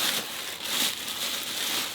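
Plastic bag pulled off a new PC case chassis with tempered glass, a close, continuous crinkling and rustling of plastic with brief louder swells, no voices.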